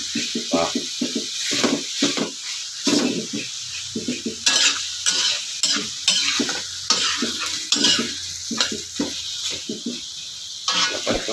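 Chicken tinola with chayote and moringa leaves being stirred in a pot: repeated scraping and clattering of a utensil against the pot over a constant sizzle, busy and close, with no voices.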